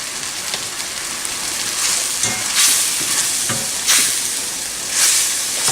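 Scallops cooking with garlic over a high flame in an uncovered pan, a loud continuous hiss and crackle with periodic surges as the food is stirred, close up and without speech.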